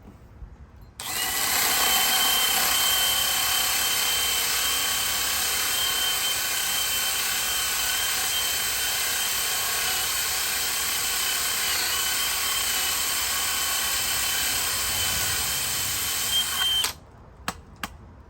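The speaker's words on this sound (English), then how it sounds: "So now we got our hole saw back on." A power drill with a hole saw whines loudly and steadily for about sixteen seconds, then cuts off, leaving a few faint clicks.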